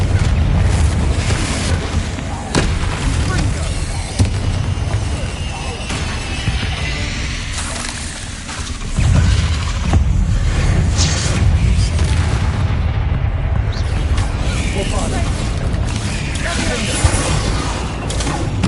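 Confringo fire spells explode repeatedly in Hogwarts Legacy, heavy rumbling booms and crashing blasts filling the scene loudly and continuously, layered with game noise and voices.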